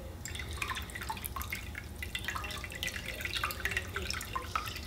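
Homemade habanero and ghost pepper hot sauce liquid is poured through a strainer, giving a soft continuous trickle with scattered drips and splashes, quiet and close, with no talk.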